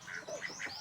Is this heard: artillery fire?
no